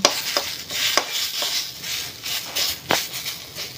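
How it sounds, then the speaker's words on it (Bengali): A spatula scrapes and stirs food with peanuts and chillies in a wok, with several sharp metallic scrapes at irregular intervals over a faint sizzling hiss. "আমি আর একবার কড়াইতে নেড়ে নিচ্ছি, শুকিয়ে নিচ্ছি ভালো করে"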